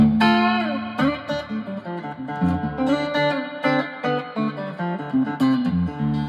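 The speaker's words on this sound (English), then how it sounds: "it's a really lovely" Electric guitar played through a Dom Turner DT7 analog multi-effects unit built by Lawrie Minson, with its reverb switched on: sustained chords and picked notes carry a lush, lingering wash, steady and close with no talking.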